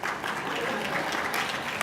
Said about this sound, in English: Applaud for her